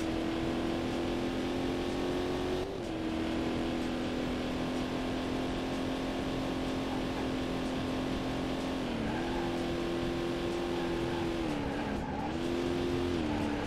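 A C4 Corvette's engine drones steadily at high revs during an amateur career race in Corvette: 50th Anniversary on PC, the pitch dipping briefly at gear changes before climbing again, loud and continuous.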